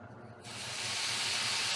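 Minced garlic hitting a hot pan over low heat, a sudden hiss that swells into a loud, broad sizzle and holds steady.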